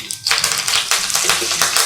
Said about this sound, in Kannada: ಸಾಸಿವೆ ಒಂಚೂರು ಚಿಟಪಟ ಅಂತಿದೆ